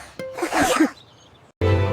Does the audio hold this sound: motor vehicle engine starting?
no